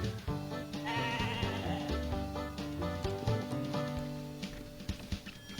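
Sheep bleat repeatedly in a Wallace and Gromit flash video game, mixed with a busy game soundtrack and little pattering effects throughout.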